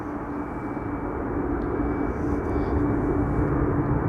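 A Swiss Embraer 190 airliner arriving at Amsterdam Schiphol produces a distant, steady low jet rumble, faint and even throughout the short stretch with no voices.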